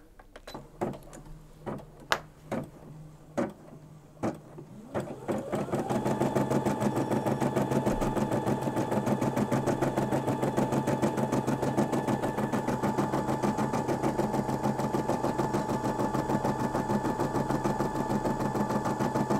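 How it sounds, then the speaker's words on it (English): A Brother Disney M280D embroidery machine starts stitching after a few light clicks and taps, then settles into a steady, loud, fast mechanical hum and rhythmic needle chatter that runs on without a break. "So I've put the foot down, it's all ready, so we're just going to press start."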